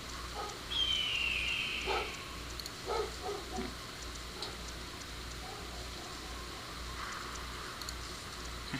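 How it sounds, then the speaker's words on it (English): A dog barks indoors in a room, a few sharp yips and barks early on, then quieter whimpering noises fading into steady background hum. "My dog's going crazy."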